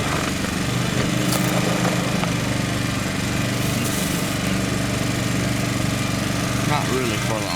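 A Champion portable generator runs in a steady, close drone with a constant low hum and mechanical rattle, holding an even level throughout with a brief voice near the end.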